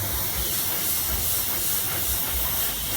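Paint hisses from an airbrush or spray gun onto a figure during a live painting demo at Kaiju-Con, a continuous close, bright spray with slight pulsing and no talk.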